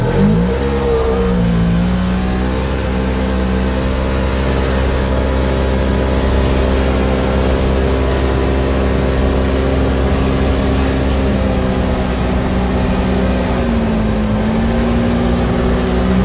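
A Polaris RZR side-by-side fitted with a homemade cold air intake drives along, its engine droning steadily up close with a rev-up near the start and pitch shifts as it rolls on, with no talking.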